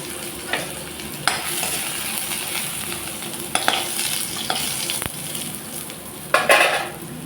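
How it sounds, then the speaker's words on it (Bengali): Dried red chillies and crushed garlic cloves sizzle steadily in hot mustard oil. A constant frying hiss runs throughout, with a few sharp clinks of a utensil against the pan. "দিলাম সরষের তেল, দুটো শুকনো লঙ্কা, কয়েক কোয়া রসুন আমি থেতো করে নিয়েছি।"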